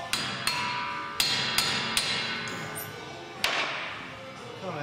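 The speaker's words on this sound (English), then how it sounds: "give it some love with a hammer here" Sharp metallic hammer blows strike a rusty car wheel hub about six times at an irregular pace, each ringing briefly, close up with a faint background hum.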